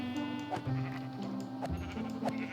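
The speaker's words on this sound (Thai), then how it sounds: "แกะเยอะเลย" Several sheep in Minecraft bleat in short, nasal calls spaced about a second apart, set against steady background music and game sounds.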